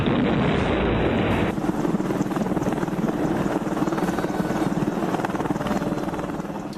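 An Apache AH-64E combat helicopter flying, a loud continuous rotor thrum with steady rapid blade chop and rushing wind noise holding throughout, close and dominant.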